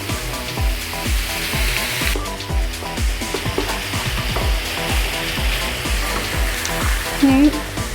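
Pieces of chicken fry in a pan with garam masala and a pinch of salt, the steady sizzle broken by a rapid run of scraping, clattering stirring strokes from a spoon against the pan, up close.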